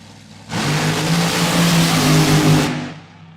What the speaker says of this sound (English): Cody Austin brings his Bushwhacker machine up for a run down that right side.